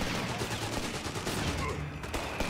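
Rifle fire in Company of Heroes 3 on Xbox Series X, a dense crackle of shots blended into continuous battle noise with scattered loud reports.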